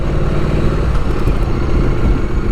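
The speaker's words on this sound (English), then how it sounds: "I had a feeling he's gonna do wheelies on a big old utility 4-wheeler." Utility four-wheeler ATV engine revving steadily on a winter day, a loud, continuous mid-pitched motor drone that stays close throughout with slight surges as it pulls wheelies.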